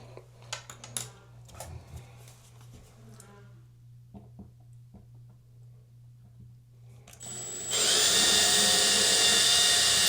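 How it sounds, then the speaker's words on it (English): A power drill bores a hole into a 2x4 wall stud while a towel bar is mounted; after a few seconds of quiet handling and light taps, a loud, steady high-pitched whine starts and holds to the end. "And then we'll drill our holes."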